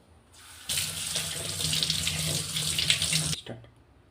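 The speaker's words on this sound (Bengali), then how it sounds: "এখন আমি ঝিঙাটা ধুয়ে নেব।" Chopped ridge gourd is rinsed under a running kitchen tap: a steady splashing stream of water into a sink for about three seconds, close and fairly loud, starting and stopping abruptly.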